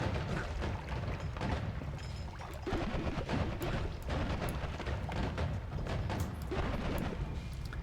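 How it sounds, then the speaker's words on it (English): Explosions in the video game Noita rumble and crackle in a dense, continuous barrage of booms, fairly faint overall and with no talking. "Explosions!"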